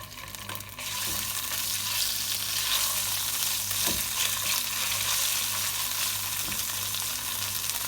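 Ginger and garlic paste sizzles loudly and steadily in hot oil, a dense, continuous frying hiss with faint stirring scrapes, and no voices.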